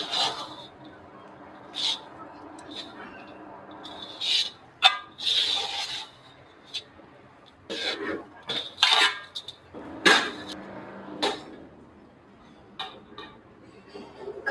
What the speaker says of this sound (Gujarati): આ બધી વસ્તુને સરસ હલાવી લેવાનું છે